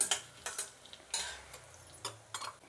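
Coriander, cumin and fenugreek seeds fry in a little oil in a pan, with light sizzling under sharp scattered clinks and scrapes of a spoon stirring them.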